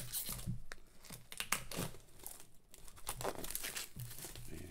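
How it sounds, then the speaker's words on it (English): Cellophane wrapping is peeled and torn off a book close up, with irregular crinkling, crackling rustles and brief tearing bursts throughout and no talk. "taking cellophane off"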